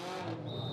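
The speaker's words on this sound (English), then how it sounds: "Cars leaving pit lane" Toyota and Subaru race cars pull out of pit lane for Macau Roadsport Challenge qualifying, a close, loud engine roar with a rising high-pitched whine partway through.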